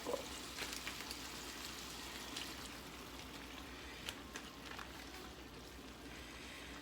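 Lemon juice and olive oil marinade poured into a hot pan with lamb chops, a soft steady liquid pour and sizzle running throughout at low level, with a few faint clinks and no voices.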